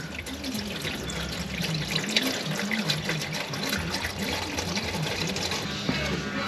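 Engine oil drains from the oil pan of a warm 2025 Honda Ridgeline, a steady close trickling pour of liquid running continuously, with a low whine in the background.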